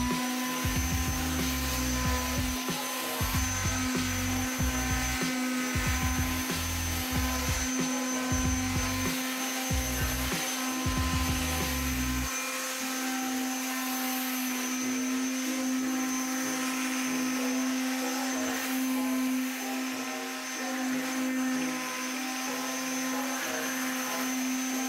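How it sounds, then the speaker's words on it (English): Electric sander buffing down the surface of an acrylic fish tank, a steady loud whirring drone with a rough, pulsing grind during the first half that settles into a smoother continuous hum. "let's get on to sanding. We have the sander connected"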